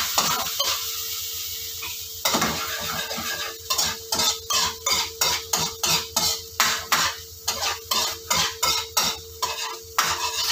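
Onion and tomato sauté in a hot electric pan, a steady sizzle broken by a regular run of loud scraping stirs of a utensil against the pan, up close with no talk.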